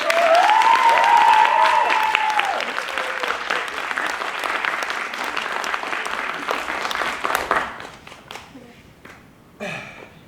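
An audience at a theatre event applauds steadily and loudly for several seconds, mixed with a presenter's voice and a few whoops; then the clapping thins out and fades into scattered claps.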